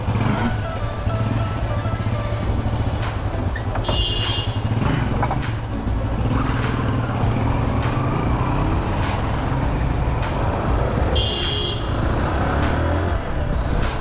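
A Yamaha motorcycle loaded with luggage rides through road traffic on a tour in India, with a steady loud engine drone and road rumble throughout and other vehicles passing nearby.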